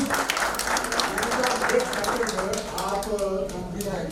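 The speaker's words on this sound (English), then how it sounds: "let us clap for her, please." Attendees at a fireside chat event applaud a colleague, a steady patter of clapping from a modest group, with voices speaking over it as the applause tails off.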